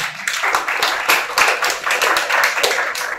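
A crowd of parents and guests at a foot-worship ceremony honoring teachers claps steadily, a dense, sustained round of applause with no talk over it.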